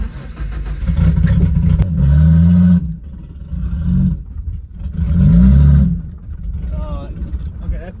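A broken-down Ford Thunderbird's engine revving on a road trip, loud rising and falling surges in two main pulls, close by, with people talking throughout.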